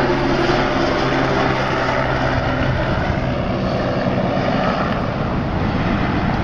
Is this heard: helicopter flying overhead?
yes